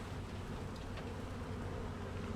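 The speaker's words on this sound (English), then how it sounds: "I'm going to shake these bees to get them" Swarm of honeybees buzzing after being shaken off a hive frame during honey extraction, a steady dense drone holding at moderate level throughout with no talk.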